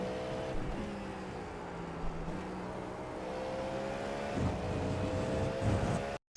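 GTP prototype race car in iRacing driving flat out at Monza through the first Lesmo corner; a loud, continuous high-revving engine drone holds steady with slight pitch shifts and cuts off abruptly at the end.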